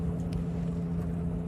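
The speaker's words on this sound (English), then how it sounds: "we're both motoring right now" A sailboat's engine runs steadily while motoring on open water, a close, continuous low drone with a firm hum and faint wind or water wash over it, no voices.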